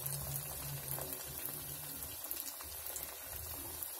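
Pitha cakes frying in hot oil over lowered gas: a faint, steady bubbling sizzle with scattered crackles, quiet and continuous.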